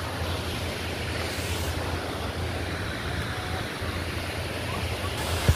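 A waterfall at Bye-bye Falls gives a constant, loud, broadband roar of rushing water that holds steady throughout, with no break or change.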